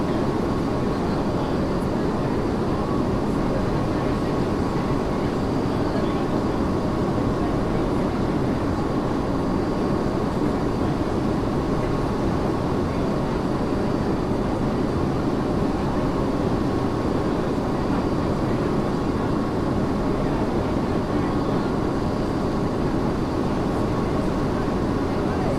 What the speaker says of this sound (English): Ladies and gentlemen, we are about to land.